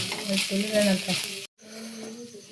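Onion, grated coconut and garlic fry in a pan on a home stove, giving a close, steady sizzle broken by stirring scrapes and a brief pause, with some voices in the background.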